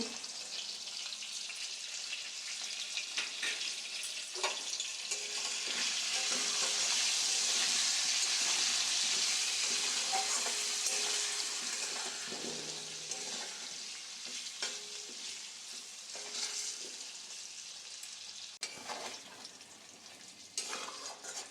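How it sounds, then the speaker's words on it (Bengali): Potatoes for chicken biryani, seasoned with salt and turmeric, fry in hot oil with a loud, steady sizzle that swells and eases, broken by occasional stirring scrapes and clinks. "আলুগুলো ভাজা হয়ে গেছে"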